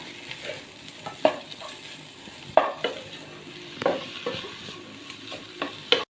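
A spoon stirs a quarter spoon of turmeric powder into chicken masala frying in a pan for Kinnam Kachi chicken, with a steady sizzle and a few sharp scraping clicks at intervals, close and fairly quiet, no talking.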